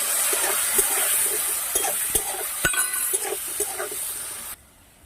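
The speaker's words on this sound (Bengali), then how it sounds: "এইবার ভেজে নিচ্ছি কেটে নেওয়া ওলকপি আলু নুন হলুদ দিয়ে নেড়ে নিচ্ছি" Chopped kohlrabi and potato with salt and turmeric frying in a wok, a soft steady sizzle broken by clinks and scrapes of stirring, close by, ending abruptly.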